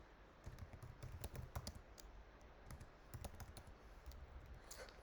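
Faint, quick keystrokes on a computer keyboard patter irregularly over a quiet room background, with small bursts of typing and short pauses in between.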